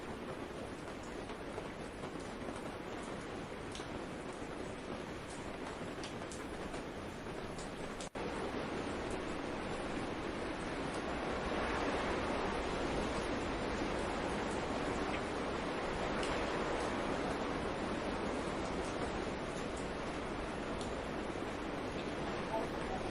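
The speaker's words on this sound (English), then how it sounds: "It is getting very windy, very rainy, and I know this stuff is heading towards us." Steady roaring hurricane wind with heavy rain rushing throughout, a dense broadband wash that never lets up, loud and close.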